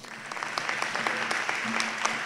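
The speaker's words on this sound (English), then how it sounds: "Please join me in generous applause." An auditorium audience at a dance festival's inaugural function claps steadily and warmly, a dense patter of many hands at moderate volume, with a faint voice briefly audible underneath.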